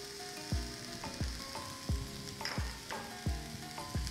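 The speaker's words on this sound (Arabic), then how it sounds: "غادي نحرك كل شيء مزيان" Paella ingredients sizzle in a pan with paprika, spices, salt and saffron, stirred in steady strokes. The frying sizzle is close and constant, broken by a scraping stir about every half second, with no talk.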